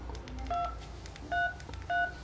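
Keypad tones from an LG V60 phone: three short, clear beeps spaced apart over quiet background noise, with no talk.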